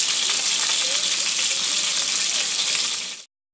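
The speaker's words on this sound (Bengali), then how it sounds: "মাছটা আমি ভালো করে ভেজে নিই।" Aar fish fries in a pan with a dense, loud, steady sizzle and hiss that holds unbroken for about three seconds before cutting off abruptly.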